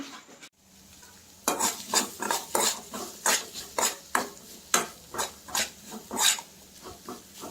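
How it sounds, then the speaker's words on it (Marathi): A spoon scrapes and clinks rhythmically in a pan, about two strokes a second, over a soft sizzle of spices frying in oil for tempering a cashew vegetable dish. "आत्ता मी त्याला फोडणी देते"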